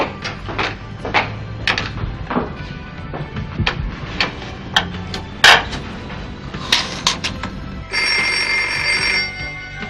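A telephone rings at home, a loud steady ringing tone setting in near the end after a stretch of clattering household knocks and bumps.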